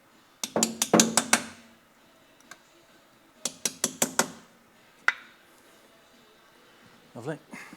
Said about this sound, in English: I'm just going around them and tapping the socket on